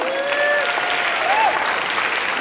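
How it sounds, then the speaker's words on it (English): An audience at a high school senior class fall assembly breaks into steady, close applause that lasts a couple of seconds, with a brief whistle rising over the clapping. "so we can give him a round of applause"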